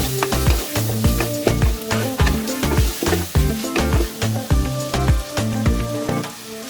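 Ginger and garlic paste, chili paste and ground coriander frying in a pan, a steady close sizzle broken by repeated stirring scrapes and knocks of a spoon, with no voices.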